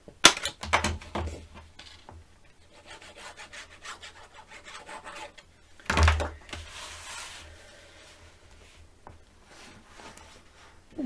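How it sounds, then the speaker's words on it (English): Paper for a shabby chic mini album being cut down to size, soft rubbing and rasping strokes close up with a louder scrape partway through, no talking. "I'm going to cut it down a little bit."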